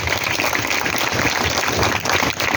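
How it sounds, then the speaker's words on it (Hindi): Loud, dense applause from a school gathering, cheering a municipal sanitation worker in a clean-city campaign event, a steady wash of many hands clapping close by with no talk. "हमारी आदरणीय पूनम बहन के लिए जोरदार ताली बजाओ।"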